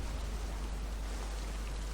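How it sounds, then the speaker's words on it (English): Rain falls in the video game Mass Effect Andromeda as a steady, even hiss of dense drops, faint and continuous with no voices. "It's raining."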